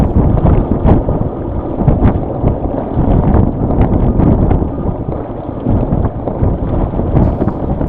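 Strong wind roars across the microphone aboard a Potter 15 sailboat, a loud, steady, rumbling buffet with gusty surges throughout and no voices.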